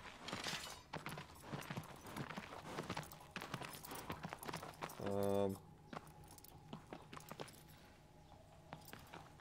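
Horse hooves clop in a steady walking rhythm in the video game Shadow of the Colossus, fairly quiet and close, while someone talks over them and a short tonal game chime sounds midway.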